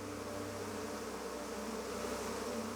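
Honey bees swarm to defend their colony from a bear, a dense, steady buzzing drone that holds without a break, close and full, with no voices.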